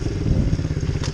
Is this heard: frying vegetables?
no